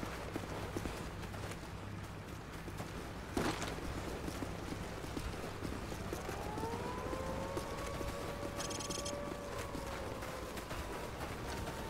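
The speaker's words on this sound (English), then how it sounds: "there goes the siren." A wailing siren in Call of Duty 4: Modern Warfare rises and holds steady over a busy game soundscape, with a sharp impact early and scattered background noise throughout.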